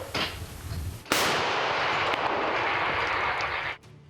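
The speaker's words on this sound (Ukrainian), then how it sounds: "Постріл!" A single artillery gun fires with a sharp, loud blast on a frontline near Pokrovsk, then a long rolling rumble trails off over a few seconds.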